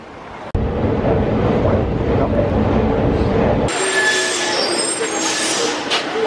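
A Paris metro train runs with a loud, rumbling roll and a rising mechanical whine, then the sound abruptly cuts to a brighter, hissing high-pitched tone as the carriage noise continues.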